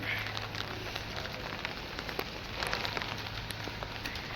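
Winter rain falls steadily in a soft, even hiss, with scattered nearby drops pattering and crackling on surfaces throughout.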